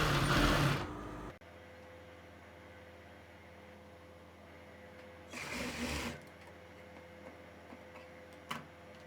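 A domestic sewing machine stitches a lining blouse in two loud bursts, one at the start and one in the middle, separated by a steady low hum and faint ticking, with a single sharp click near the end.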